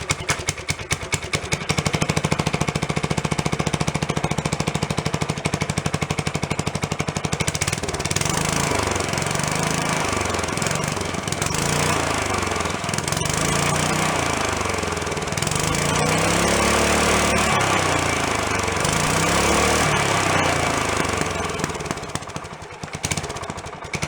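A junk go-kart's small engine runs loud and steady after repairs, its rough putter holding at idle with slight rises and falls in speed, close by and continuous throughout, with no talk over it.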